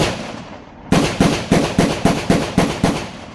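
Pistol gunshots from an Echelon 4.0 FC and a Glock 19X in a steady string of about eight sharp, loud cracks at an even, quick rhythm, each with a short ringing tail, with no talking.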